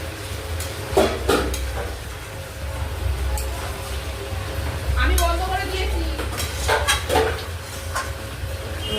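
A spoon stirs chicken curry with potatoes and loitta fish in a pan, making intermittent scrapes and clinks against the metal under a low sizzle while a person talks throughout.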